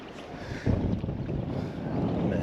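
Wind buffeting a fishing boat out on the water for smallmouth bass, a steady low rumbling roar of gusts against the microphone with no talking.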